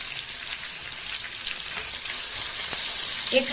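Tomatoes and a coconut, garlic and ginger paste fry in a pan for a spicy village-style dal with brinjal, a steady, close sizzle and crackle with faint stirring throughout.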